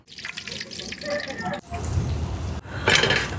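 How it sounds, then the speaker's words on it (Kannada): Vegetables and tomatoes are rinsed under running water at a kitchen sink for a Karnataka-style churmuri snack, with a steady splash and trickle that thickens toward the end, close and moderately loud. "ತರಕಾರಿ ಎಲ್ಲ ತೊಳ್ಕೊಳೋಣ. ಟೊಮೊಟೊ ತೊಳ್ಕೊಳೋಣ."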